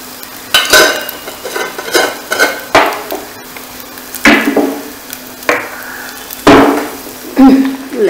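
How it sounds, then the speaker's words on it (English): Whole moong dal tipped into a hot pan of frying spices with dhania powder, then stirred with a spoon: repeated scraping and clattering strokes over a steady sizzle, close and fairly loud, with no talk. "And now we will add the dal."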